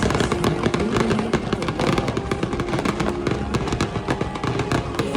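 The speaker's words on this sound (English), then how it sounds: "The fireworks display of Luminous was fantastic." Fireworks bursting during the Luminous nighttime show at EPCOT, a dense, steady barrage of booms and crackles layered with loud music, continuous across the whole stretch with no talk.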